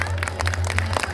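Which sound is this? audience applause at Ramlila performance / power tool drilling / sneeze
audience applause at Ramlila performance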